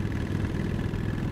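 Honda Shadow 750 Aero motorcycle engine with a spike air intake, running with a steady, low, rumbling gurgle close by.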